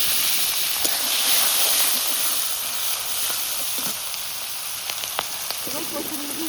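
Cumin seeds, chopped ginger and green chilies sizzle steadily in hot oil in a pan over a village clay stove, a loud continuous crackling hiss with a few sharper pops and a faint stir near the end.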